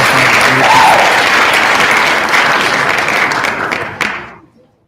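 A podcast studio audience gives a round of applause for women firefighters, dense steady clapping close up that fades out over the last second.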